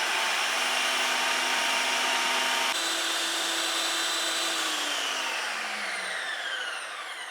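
An ice cream maker, a Ninja CREAMi, makes a loud, steady mechanical whir like a motor churning, holding constant and then slowly winding down in pitch toward the end.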